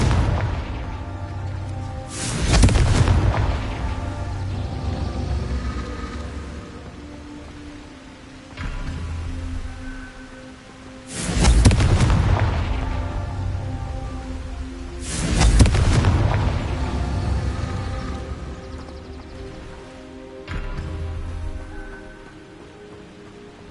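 Confringo fire spells in the Hogwarts Legacy video game set off several heavy explosions, with three loud booms and a couple of softer ones spaced a few seconds apart over a constant rumbling, rain-like game background.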